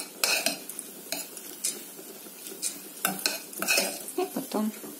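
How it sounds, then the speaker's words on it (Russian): Buckwheat groats toasting in a pan, with a spoon stirring and scraping them in bursts over a steady low sizzle, close and clear with no voices. "гречку мы 3 минутки обжарили"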